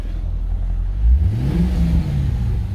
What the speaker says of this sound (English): we'll rev her up a little bit